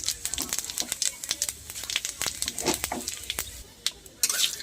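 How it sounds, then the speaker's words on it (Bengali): Bay leaf, dried red chili and panch phoron spices sizzling and crackling in hot oil in a kadai, a dense run of close sharp pops and spits throughout, fairly quiet overall, with no talking. "প্রথমে কড়াই তেল দিয়ে দেবো, তেজপাতা শুকনো লঙ্কা দিয়ে দিয়েছি। এবারে দিয়ে দেবো 5 ফোড়ন"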